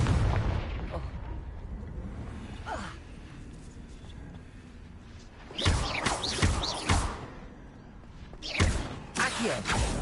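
Confringo fire spell blasts in a Harry Potter video game, several booming explosive bursts in quick succession with rumbling tails, loud and close, following a quieter stretch of low rumble.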